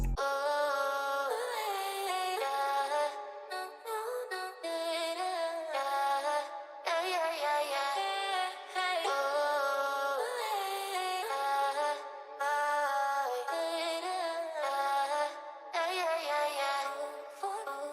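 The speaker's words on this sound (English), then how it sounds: "And this is the pattern I laid down, and it sounds like this" A bright, bouncy sampled melody for a trap beat plays in a repeating pattern of short, chopped notes with brief gaps, steady and fairly loud, no voices.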